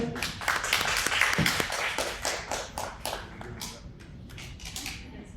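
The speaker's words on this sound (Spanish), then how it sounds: "Pues, un aplauso." A small audience at a university event gives a round of applause, with distinct individual claps rising near the start and then thinning into scattered, uneven claps that fade toward the end.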